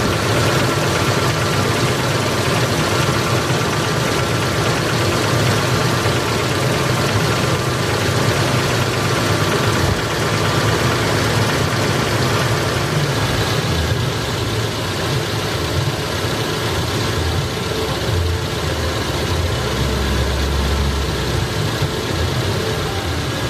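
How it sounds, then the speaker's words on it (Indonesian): A car engine idles steadily after an oil change, a new oil filter and an engine flush, giving a continuous, fairly loud low rumble that holds even for over twenty seconds with no voices. "kita coba menyalakan mesinnya dan coba kita bandingkan apakah ada"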